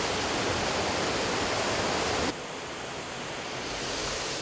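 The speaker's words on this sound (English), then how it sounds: "You see the waterfall and the rapid currents?" Waterfall and fast mountain-valley currents near Jiri Mountain in Sancheong, Korea, at a canyoning spot: a steady, dense roar of rushing water that drops to a slightly quieter, still continuous rush partway through, with no talking.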